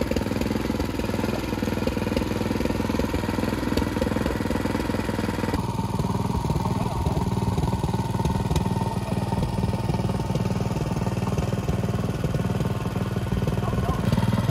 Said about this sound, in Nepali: यहाँ चाहिँ अहिले ट्र्याक्टरले चाहिँ यहाँ रोपाईँ भइरहेको छ।